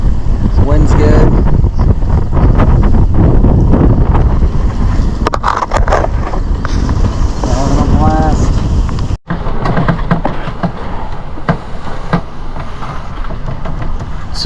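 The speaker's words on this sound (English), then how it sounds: "The wind's good." Steady wind roars across a sailboat on the open Pacific between Catalina Island and Hawaii, buffeting loudly and continuously with a brief dropout partway through.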